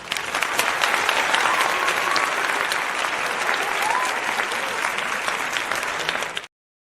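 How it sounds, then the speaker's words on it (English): A crowd claps and cheers in steady, dense applause that holds at an even level for about six seconds before cutting off abruptly. "we always got to give you your flowers and applause"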